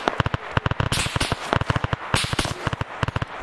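Ak 5 assault rifles firing in a Finnish military exercise: loud, close, sharp shots in rapid irregular bursts and single cracks, dense and continuous.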